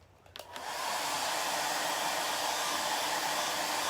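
A hair dryer on its cool setting, drying chalk paste, switches on and quickly rises to a steady, loud, close whoosh that holds without a break.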